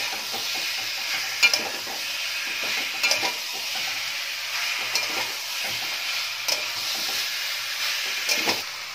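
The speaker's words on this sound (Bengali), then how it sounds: "আবার সবকিছু একটু মিশিয়ে নিচ্ছি।" Fried baby potatoes and peas are stirred into spice masala in a pan for winter aloo dum. A continuous sizzle runs underneath while a spoon scrapes and knocks against the pan at irregular intervals.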